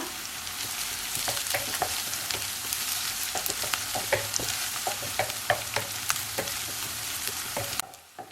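Onions, slit green chilies and curry leaves sautéing in a pan of oil, a continuous close sizzle broken by frequent clicks and scrapes of stirring, cutting out abruptly near the end, no voices.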